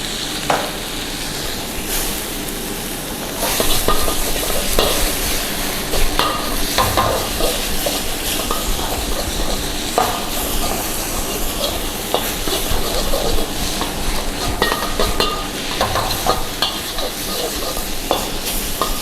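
Chilies stir-fry in a hot pan for nasi goreng, a steady loud sizzle with repeated scraping stirs and spatula clatter throughout.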